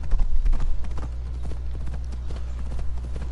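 Horse hooves gallop across terrain in the video game Assassin's Creed Odyssey: rapid, steady clip-clop hoofbeats, close and continuous over a low rumbling hum.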